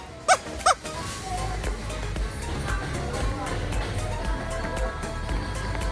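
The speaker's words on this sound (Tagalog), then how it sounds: "Ganito yung kahol nung ano, nung maliit na aso doon sa ano." A small dog gives two quick, sharp yaps close by near the start, followed by a murky stretch of indistinct background sound.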